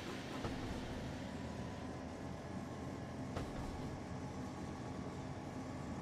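A class 110 locomotive with a cab car passes in Train Sim World 3 on the Niddertalbahn, giving a steady loud rumble of rolling wagons, with a couple of faint clicks from the rail joints.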